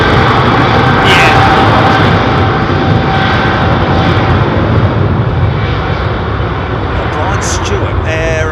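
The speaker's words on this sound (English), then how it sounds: "That is a jumbo by the looks of it." A Boeing 747 jumbo jet at London Heathrow Airport roars steadily and loudly throughout, a broad continuous engine rumble with people talking over it.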